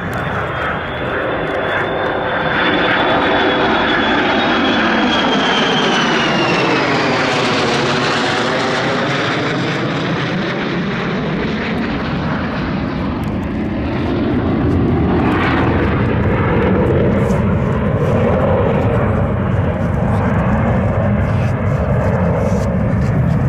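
Air force military aircraft making a flyby over a ceremony, a loud roaring engine rush that swells overhead with a descending pitch sweep, then a sustained heavy rumble as it passes and recedes.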